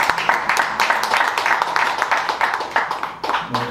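Audience applause for Korean poet Kim Young-min at a book talk celebrating her first poetry collection, a dense, steady patter of many hands clapping indoors, moderately loud and sustained throughout.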